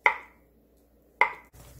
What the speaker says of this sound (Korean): 두부를 큼직하게 이렇게 썰어 줍니다